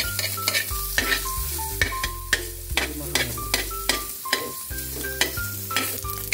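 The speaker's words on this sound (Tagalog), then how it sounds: "Igisa muna natin yung taba para lumabas yung oil niya" Pork fat sizzling steadily in a hot pan as it renders oil for an Ilocano dinoydoy dish, with repeated close stirring scrapes and occasional utensil clinks, no talking.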